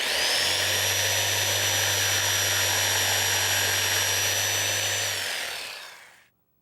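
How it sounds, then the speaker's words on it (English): A saber saw cuts notches into a wooden ice fishing tip-up, a loud steady motor whine with a low hum that runs about five seconds and then winds down to silence. "Now we need the saber saw to make a couple more additional cuts"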